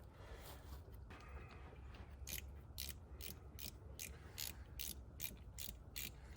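Socket ratchet working header bolts loose on a 1971 GMC truck, with a steady run of sharp ratcheting clicks in regular pulses over low background hum, close and fairly faint.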